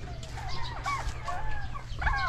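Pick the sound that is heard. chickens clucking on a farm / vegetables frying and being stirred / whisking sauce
chickens clucking on a farm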